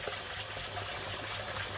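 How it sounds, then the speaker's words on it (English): Water poured over a cup and a half of short grain rice in a pot, a steady close gushing fill that runs unbroken throughout, with no talking. "A cup and a half of short grain rice and the same amount of water."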